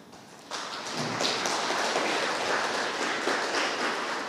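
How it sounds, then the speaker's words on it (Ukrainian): Audience applause at the end of a presentation on data management and internal control, a soft burst of scattered clapping that rises and continues steadily, moderately distant and not very loud. "Є оплески"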